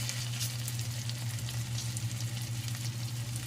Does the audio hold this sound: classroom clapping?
no